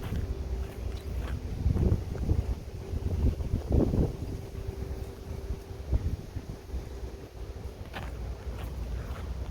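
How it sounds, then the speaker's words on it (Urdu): Wind blows outdoors in Saudi Arabia, a steady low rushing buffet across the microphone with several stronger gusts, along with faint scattered handling or movement noises. "یہ ہوا چل رہی ہے"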